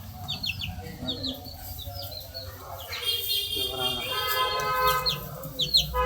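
Several chickens cluck and chirp nearby in a busy, overlapping chorus, with a person talking at times beneath them.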